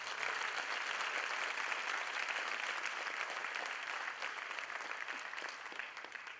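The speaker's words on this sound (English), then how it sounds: "Let's give her another round of applause, please." Audience applause at the 2015 Arkansas 4-H O-rama campaign rally, with a crowd clapping steadily at moderate distance for several seconds before it tapers slightly.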